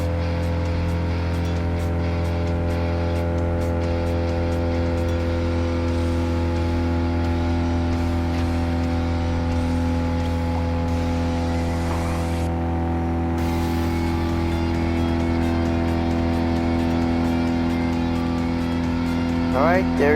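A Fiat 500F engine in the racing game Gran Turismo Sport drones steadily at a constant pitch with a 4-speed transmission, loud and unbroken for about twenty seconds, while someone talks over it.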